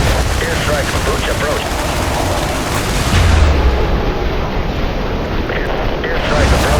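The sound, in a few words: airstrike explosions in the video game IS Defense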